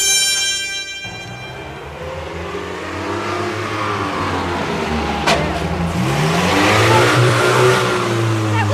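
A car engine starts up and revs, then the vehicle pulls away, its pitch rising and shifting as it accelerates, loud and close with steady rumbling throughout.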